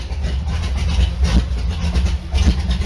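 A race boat engine idles roughly at low revs, a steady deep rumble with uneven pulses, close and loud with no talk.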